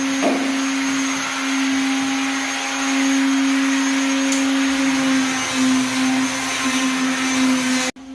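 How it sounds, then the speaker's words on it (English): A palm sander runs on a house ceiling with a loud, steady whine and a strong sustained tone, continuous and close, before cutting off abruptly at the end. "So he's going through the palm sander phase now."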